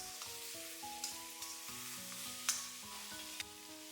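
Sliced luffa gourd stir-fried with minced garlic over high heat, a faint steady sizzle with occasional soft spatula scrapes and one sharper tap, under a sustained layered musical tone.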